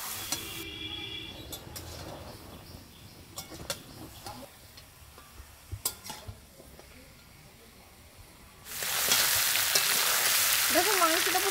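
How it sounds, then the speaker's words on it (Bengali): Meat frying in a wok, with quiet stirring and clinks at first, then a loud, steady sizzle that swells near the end and holds close. "এই যে মাংসটাকে এবার এর সঙ্গে ভালো করে ভেজে নেবো।"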